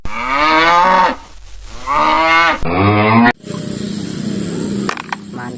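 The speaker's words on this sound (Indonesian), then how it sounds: "yang ini seekor sapi" A toy cow lets out two loud, drawn-out electronic moos, each about a second long, followed by a short burst of other toy noise and clatter.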